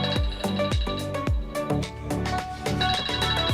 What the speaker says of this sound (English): Maryland's iPad was ringing.